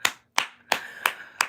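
Five sharp, evenly spaced hand claps ring out close and loud, each with a short decay, with no talking in between.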